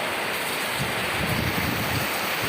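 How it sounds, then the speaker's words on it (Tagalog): Heavy rain pours down in a dense, continuous hiss, loud and unbroken throughout. "Lakas ang ulan."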